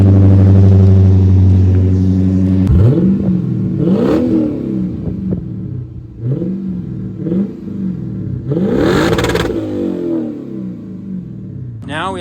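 A Lexus IS F sports car accelerates hard, its engine revving loud and close, rising sharply through several gears with repeated climbing sweeps and brief dips between shifts, heard alone without talk.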